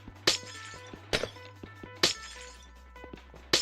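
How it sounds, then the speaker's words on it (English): Glass blocks breaking in Minecraft, four sharp shattering crunches spaced about a second apart over a low steady game hum, close and clear. "So we can take out this glass"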